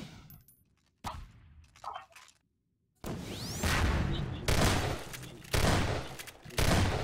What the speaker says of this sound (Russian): как-то оппоненты сейчас не очень точно стреляли